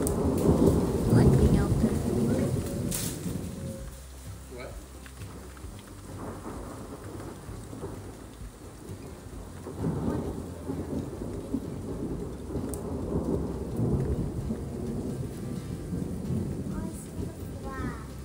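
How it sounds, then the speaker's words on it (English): A California thunderstorm: deep, rolling thunder booms over steady rainfall, with one loud crack early and further rumbles continuing under the constant patter. "Guys, I cannot with the thunderstorms."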